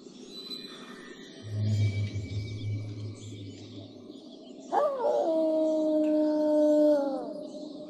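A wolf howls in Castlevania Lords of Shadow 2: a steady tonal howl rises sharply, holds and then falls away over a low humming game background, following an earlier low droning tone.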